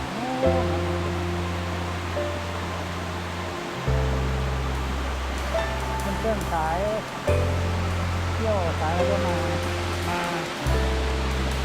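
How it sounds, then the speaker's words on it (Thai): Water pours down a cliff at a stream waterfall near a temple in Pak Chong, Thailand, a continuous broad rushing hiss heard beneath people talking and a low droning tone. "น้ำจะไหลลงไป"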